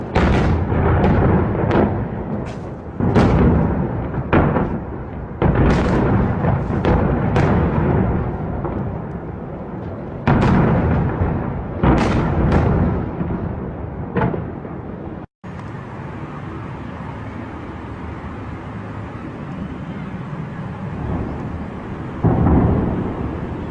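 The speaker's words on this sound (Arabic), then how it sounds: "Все, бомбят." Heavy bombardment during a military offensive on Afrin: a rapid series of loud, booming explosions and artillery blasts that roll and echo, then a lower, sustained rumble with a final blast near the end, no voices.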